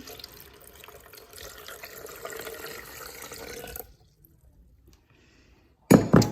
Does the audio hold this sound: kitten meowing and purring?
no